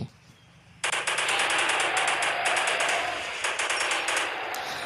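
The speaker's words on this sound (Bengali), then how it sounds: "তাই এদের জন্য প্রস্তুত করে রেখে দিয়েছি মেশিন গান" Sustained machine gun fire in the video game Indian Bike Driving 3D hammers out as a steady rapid rattle after a quiet opening, loud and continuous for about four seconds.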